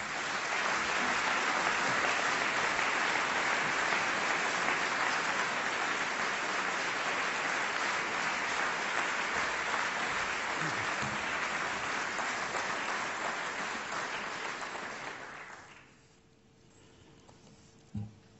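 Applause fills a lecture hall as the audience welcomes Professor Pat Dodson to deliver the inaugural Gandhi Oration, a dense, sustained clapping from a large crowd lasting about fifteen seconds before fading into quiet.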